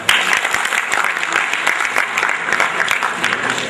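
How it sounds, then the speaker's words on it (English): An audience at a national HR summit on a college campus claps for the greenery staff, a steady, dense burst of many hands applauding at moderate loudness, continuous throughout with only slight swells. "please clap for them."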